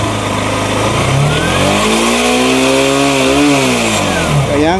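A Rouser NS 160 motorcycle engine cranks and revs loudly up close, its pitch climbing and falling in a sweeping rev with a buzzy, continuous drone, no voices over it.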